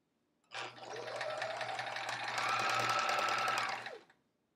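A sewing machine runs fast in one continuous burst of about three and a half seconds, a close rapid mechanical chatter over a low motor hum, with the table rattling under it.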